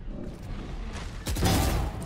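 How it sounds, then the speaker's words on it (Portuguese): Gunfire in a round-based competitive shooter, a burst of muffled shots near the middle and a louder, denser volley toward the end over a constant game background. "Mais um tiro."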